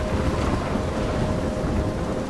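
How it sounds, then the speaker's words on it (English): A thunderstorm in the video game Life Is Strange: steady heavy rain and dense low rumbling thunder fill the scene at an even, loud level throughout, with no voices. "I'm trapped in a storm?"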